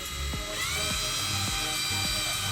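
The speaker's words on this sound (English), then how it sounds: "it's kind of hard to start the hole on the PVC" A power drill whines steadily, boring a hole in PVC pipe. The bit periodically catches and grinds against the plastic, close by and without speech.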